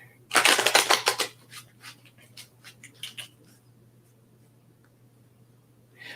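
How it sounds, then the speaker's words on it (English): Deck of cards being shuffled close up: a dense riffle burst in the first second, then several slower separate card flicks and taps that trail off into quiet, with no talking. "Let me shuffle my cards and I'll pull some cards for you too"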